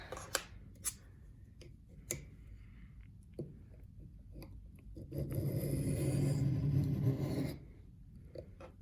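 Reed knife drawn across a sharpening stone set at an 8 degree angle guide, with soft rasping strokes, a few short scrapes followed by one longer, louder grinding pass near the end.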